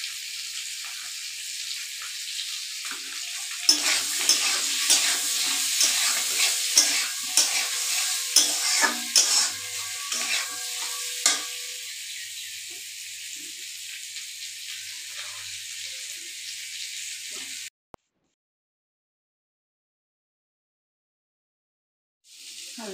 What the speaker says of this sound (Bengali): আলুটা ভাজা হয়ে গেছে দিয়ে আমার।